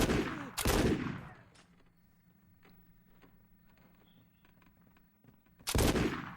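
Gunfire in the video game Condemned 2: Bloodshot at a lodge, two loud close shots at the start and another at the end, with quiet clicks and rustles between them.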